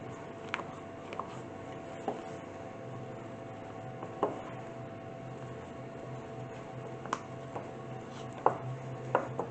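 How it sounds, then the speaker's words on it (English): Sticky scone dough is worked around a bowl, with scattered soft knocks and scraping taps at irregular intervals over a faint hum, fairly quiet and close, no talking. "Just keep moving it around the bowl to gather all that flour up"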